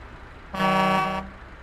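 A single loud truck horn blast, a rich chord-like tone held for just over half a second, with a train-horn character against quiet background.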